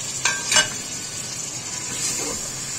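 Tomatoes sizzle steadily in a pan for matar chicken while a spoon stirs them, giving two sharp scraping clatters near the start over a continuous close frying hiss.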